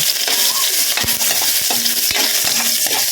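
Ginger added to garlic frying in a pan, a dense close sizzle with repeated scraping stirs of a spoon against the pan.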